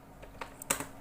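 A few quiet, close keystrokes on a computer keyboard while entering text in Microsoft Word, with light clicks clustered near the end.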